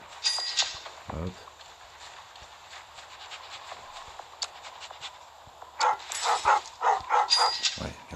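A dog in the LifeAfter survival game barks in a few short, sharp bursts, loudest at the start and again near the end, with clattering game sounds and some background noise in between.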